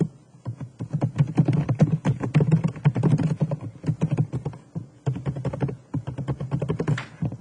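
Keys clatter in quick, uneven bursts as a user email and password are typed on a computer keyboard, close and clear, with a short pause partway through and no talking.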